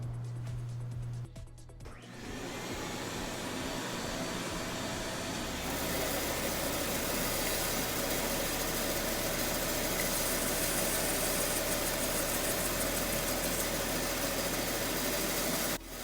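A power saw runs steadily with its blade spinning, a continuous loud whine and hum that gets louder after a brief start and holds to the end, with no talking.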